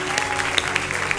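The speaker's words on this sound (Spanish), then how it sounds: "¡Denle un aplauso!" A church congregation bursts into brief applause, a dense wash of clapping hands at close range with scattered crowd noise.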